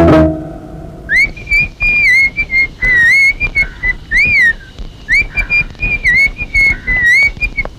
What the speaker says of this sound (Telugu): ఏంటి జోరుగా ఈలేస్తున్నావు?